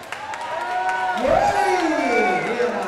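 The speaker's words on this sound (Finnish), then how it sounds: "Ja saa antaa kunnon aplodit." Crowd applause and cheering for a guest introduced at the Miss Bikini 2009 pageant in Finland, with a steady wash of clapping and voices throughout, and a loud announcer-like voice swelling over the noise near the middle.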